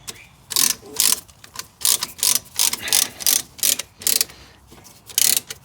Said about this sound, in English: This is the easiest tool you're going to use to compress your brake pistons in.